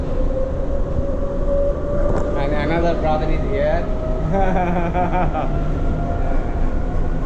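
Steady low rumble of a monorail train running from KL Sentral to Bukit Bintang, Kuala Lumpur, at night, with people talking over it throughout.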